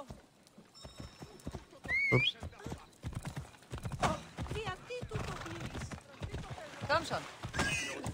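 Horse in Assassin's Creed Odyssey snorting and whinnying amid a run of clip-clopping hoof steps, close and fairly busy, with someone briefly talking over it.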